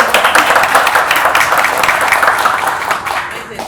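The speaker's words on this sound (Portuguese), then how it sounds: "salve de palmas então para isso" Steady applause from a group at a business and science conference, a continuous patter of clapping that fades slightly toward the end.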